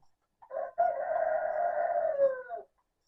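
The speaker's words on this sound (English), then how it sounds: "Never mind that rooster." A rooster crows once, close and loud, in one long drawn-out call of about two seconds with no other sound around it.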